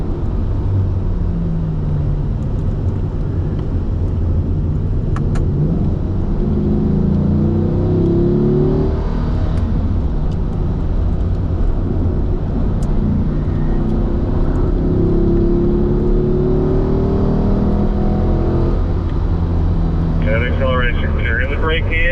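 A Corvette engine pulls steadily on a race track during a driving school session. A loud, continuous rumbling drone rises and falls in pitch through gear changes, and voices talk throughout.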